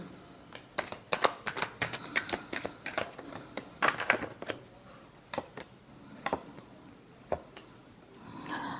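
Tarot cards are shuffled up close during a reading, giving a string of soft, crisp riffling slaps and flicks that are irregular and fairly quiet, with no talking.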